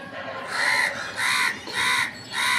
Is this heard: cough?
no